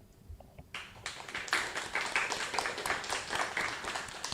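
An audience at a school web radio contest applauds to vote for a contestant. After a quiet start, a dense wash of many hands clapping rises and holds steadily at moderate loudness in a small room.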